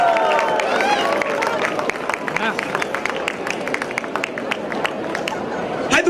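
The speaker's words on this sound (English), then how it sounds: "please give a big round of applause for Nathan Edmondson!" An audience at a comic convention session in Hyderabad applauds for writer Nathan Edmondson, a dense spread of handclaps and crowd noise running throughout, with voices mixed in.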